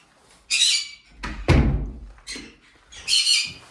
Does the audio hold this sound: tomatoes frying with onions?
no